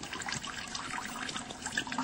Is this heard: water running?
yes